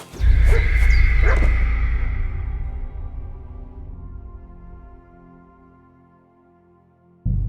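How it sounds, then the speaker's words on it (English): Dog in the medieval video game Kingdom Come: Deliverance II, a burst of loud barks at the start, then a long fading tail, and a brief sharp sound cutting in at the end. "What's that dog making such a fuss about?"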